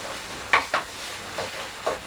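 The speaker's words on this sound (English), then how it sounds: "about 2 tablespoons of ketchup. Give that a stir through. In there with our peppers." Ketchup stirred through peppers in a pan while cooking Gobi Manchurian: soft scraping strokes with a few brief clicks, gentle and close over a faint sizzle.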